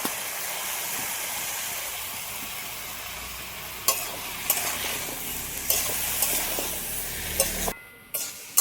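Greens and potatoes fry in a wok with green chillies, salt and turmeric, a dense steady sizzle that turns into bursts of scraping and stirring, then stops briefly near the end.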